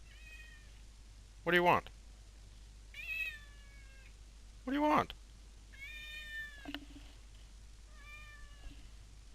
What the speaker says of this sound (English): And there's my cat again.